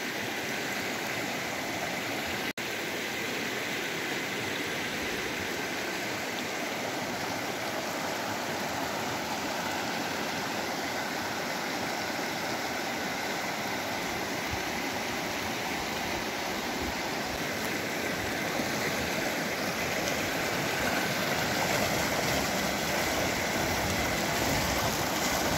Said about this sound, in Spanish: Acá hay un arroyito que baja de allá.